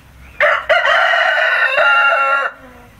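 A rooster crows inside a house, one loud, close cock-a-doodle-doo that opens with a sharp onset, holds a long strained call and then cuts off.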